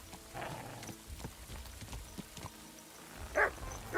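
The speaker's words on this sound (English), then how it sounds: "Stop nipping at the legs of my fucking horse." In the Kingdom Come: Deliverance 2 video game, a horse's hooves clop along while a dog nips and barks around its legs, with two sharp barks standing out near the end.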